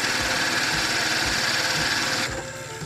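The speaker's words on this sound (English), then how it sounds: "I'm going to give you a quick demonstration of the detail gouge. This is for use for spindles only." Wood spindle spinning on a woodturning lathe while a detail gouge cuts it, a loud steady whirring buzz with a fast regular pulse, easing slightly near the end; no talking.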